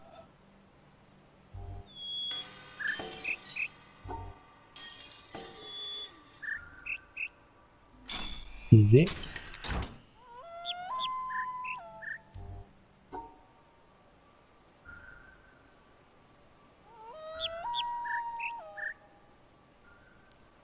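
Bird calls from the video game The Witness: several short chirping, whistled phrases with clear rising and falling notes, repeated in bursts, with a brief low thump near the middle and a single spoken word.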